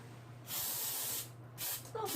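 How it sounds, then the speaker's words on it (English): Vegetable oil cooking spray hisses onto a baking pan for bread in two steady bursts, close and fairly loud, with a brief third spurt at the end and quiet pauses between. "grease the pan. I'm using just a vegetable oil spray, not canola oil."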